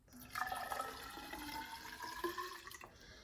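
Water from a sample pours briefly into a narrow graduated cylinder, a gurgling stream with rising pitch as it fills, quiet and close.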